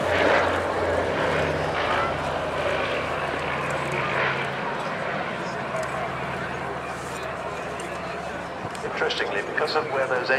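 A PBY-5A Catalina flying boat at an air show passes with a steady, loud drone from its twin propeller engines. It is coming in low as if to land on water, and the roar holds throughout while a voice talks over it.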